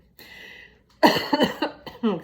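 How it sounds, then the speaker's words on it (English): A faint hum, then a loud, harsh cough burst close by, followed by a short second cough. "that was a bad cough too"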